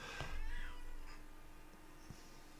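A house cat meows for attention indoors, one clear meow near the start followed by a quieter, drawn-out second call, close and otherwise quiet.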